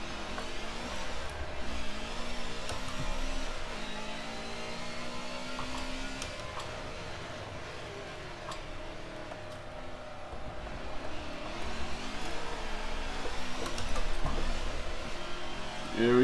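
A car in Forza Motorsport 7, driven with a race wheel, spins its rear tyres: a continuous engine drone with a rough, broad tyre roar rises and falls steadily over the whole stretch, without talk.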